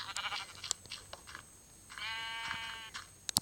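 Sheep bleat in Minecraft Pocket Edition, a single wavering game bleat set among clicks and crunchy in-game sounds, with no talk over it.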